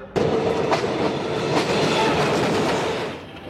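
A Pakistan Railways train runs along the tracks nearby, a loud steady rumble with rhythmic clickety-clack of wheels over rail joints, fading slightly at the end.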